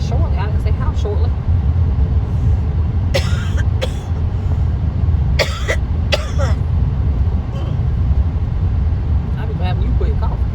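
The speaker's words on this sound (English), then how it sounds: "You coughed almost my whole video here." A passenger coughs and clears their throat in short bursts inside a car on a drive from Florida to Georgia, over the constant low hum of the road, with a few voices in between.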